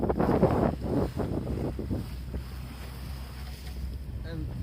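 A boat on a choppy sea off Cape Point is heard through heavy wind buffeting the microphone, with a low rumble of waves and hull motion that stays loud and steady throughout.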